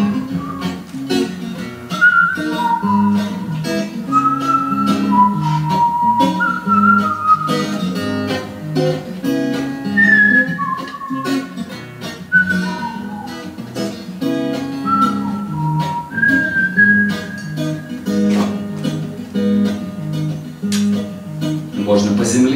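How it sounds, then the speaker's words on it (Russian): Artistic whistling carries a song melody at a concert, with sustained whistled tones over a loud accompaniment. "когда с песнями пытаюсь изображать какой-то художественный свист"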